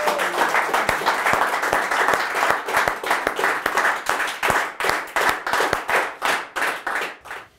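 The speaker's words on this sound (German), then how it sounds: "Applaus, Applaus, Applaus!" Audience applause at a German TV broadcast, a continuous burst of many hands clapping, loud and close, with a steady rhythmic clap pattern emerging as it fades toward the end.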